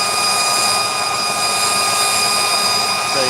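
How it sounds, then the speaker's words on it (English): A forced-air blower feeding a propane forge at 3 psi gives a loud, steady, unbroken roar of rushing air, close and continuous from start to end. "forced air blower"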